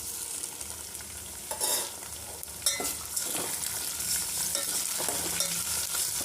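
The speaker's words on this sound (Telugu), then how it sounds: "ఆనియన్ కొంచెం గోల్డ్ కలర్ వచ్చాక టమాటోస్ వేస్తామండి." Chopped tomatoes and golden-browned onions fry in a hot pan for upma, giving a loud, continuous sizzle close up, broken by a few sharper spatula scrapes as they are stirred.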